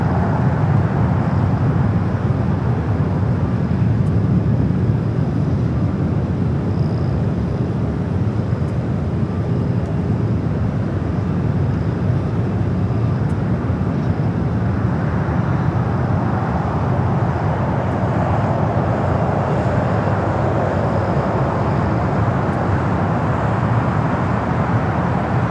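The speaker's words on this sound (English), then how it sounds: "we do that 777 heading to Honolulu, rolling down that 25 right" A Boeing 777 bound for Honolulu rolls down runway 25 Right at LAX, a loud, steady broadband roar that holds for the whole stretch without a break.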